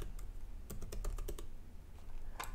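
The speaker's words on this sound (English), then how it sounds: "I'm going to type my credit card" Credit card details typed on a computer keyboard at a checkout form, a quick run of crisp, close keystrokes in the middle with a few more taps near the end, no talking.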